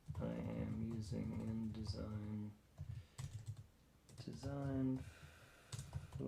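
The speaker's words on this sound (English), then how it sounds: "I'm typing here." Clicks from a computer keyboard being typed on while someone works in Adobe InDesign, picked up mostly in short pauses between a man's close, steady talking.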